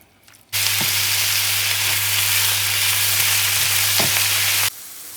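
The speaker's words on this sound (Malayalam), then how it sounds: "ചിക്കൻ നന്നായിട്ട് എണ്ണയിലൊന്ന് ഇളക്കി കൊടുത്തതിന് ശേഷം നമുക്കിതൊന്ന് വഴറ്റിയെടുക്കാം" Chicken sautéing in oil for a homemade wrap sizzles loudly and steadily after starting abruptly, with a few stirring scrapes and a low constant hum beneath until it cuts off.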